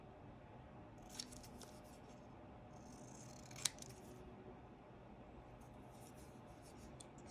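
Scissors snip through paper for a holiday travelers notebook page, with a couple of brief, faint cuts over a quiet room hiss.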